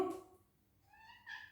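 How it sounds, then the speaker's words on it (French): A domestic cat meows indoors: one short call at the start, then a longer rising meow near the end, with a quiet pause between them and no talking. "Oh, c'est mon chat, il miaule."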